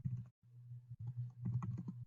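Light typing on a computer keyboard during a web design lesson, with soft irregular key clicks over a low steady hum, quiet and close.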